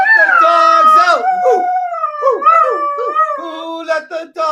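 A dog howls along with a person singing, its long wavering howls woven through and over the close, loud human singing voice.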